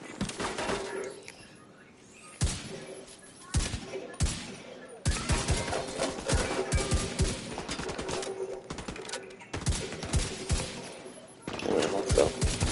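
Gunfire rattles in bursts during Division 2 gameplay. Rapid automatic volleys come in close, loud clusters, separated by brief quieter gaps.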